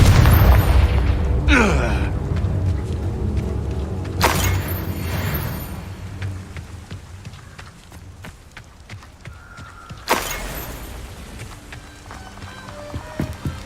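Confringo blasting spells explode in the Hogwarts Legacy video game: a heavy boom at the start, then two more sharp blasts, each fading into rumble, with scattered clatter and a voice in between.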